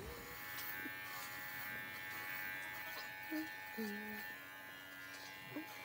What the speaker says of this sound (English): So Ethel and Lucy should be pretty easy when it comes to shaving them